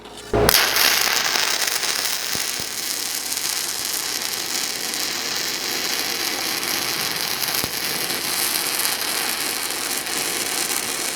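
A 6010 stick rod is welded uphill on an Everlast Cyclone 262 welder. The arc gives a steady, loud, close crackling sizzle that starts abruptly and runs without a break.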